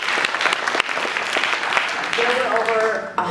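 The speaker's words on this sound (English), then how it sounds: "yes, we can get applause for that." Dense audience applause fills the room at a recycling update meeting, continuous clapping from many hands at steady loudness throughout, with a voice faintly audible near the end.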